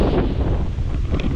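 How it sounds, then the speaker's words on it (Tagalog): Strong typhoon wind roars steadily and loudly, buffeting the microphone in a dense continuous rumble with no pause. "kitang kita ko kung gano'ng kalakas ng hangin"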